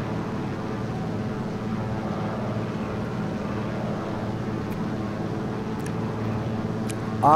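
A de Havilland Beaver floatplane in X-Plane 12 drones steadily in flight with a continuous, loud engine and propeller hum that holds unbroken throughout, with no voices over it.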